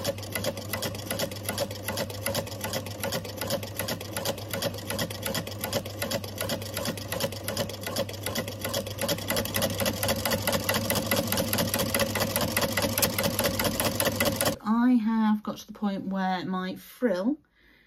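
A sewing machine runs steadily for about fifteen seconds, stitching a dress with a cotton voile lining, its fast regular whir continuous, with a voice speaking over it before the motor stops and talk carries on alone.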